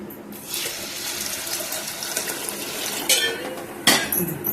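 Water pours from a tap into a metal pot of soaked black rice, a continuous splashing rush with a couple of clanks of cookware.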